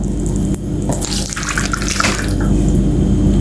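Boiling water poured out for bread dough in a home kitchen, a loud, steady rushing splash up close that swells partway through and runs continuously with no talk.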